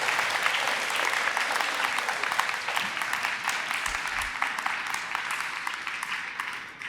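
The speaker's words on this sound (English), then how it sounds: "So give yourselves a round of applause." Staff and students at a middle school ribbon-cutting ceremony give a round of applause, a broad, moderately distant clatter of many hands that continues steadily and tapers off near the end.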